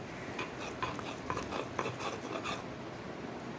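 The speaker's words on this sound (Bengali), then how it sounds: "আমি পাটায় ভাত মেখে নেব" Rice being mixed by hand on a stone grinding slab, a steady close squelching and rubbing with soft rhythmic pats, no talk.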